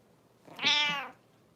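A house cat meows once after being woken, a single drawn-out, rising-then-falling cry lasting about half a second, close and clear against a quiet room with no talking.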